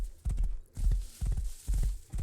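Horse hooves from World of Warcraft, four evenly spaced clip-clop hoofbeats, close and distinct, in a steady walking rhythm with no talk.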